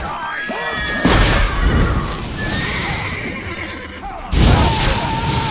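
A horse neighs loudly and repeatedly in The Witcher 3: Blood and Wine, amid a fight in Toussaint. Hooves clatter, crashes and shouts come in sharp bursts, and whinnies rise over the clamor.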